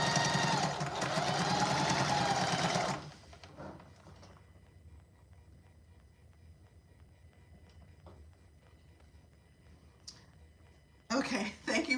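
A sewing machine stitches the side seams of a cotton tote bag with a quarter-inch seam allowance, a loud whirring run of about three seconds, then near quiet with faint clicks, then another short burst.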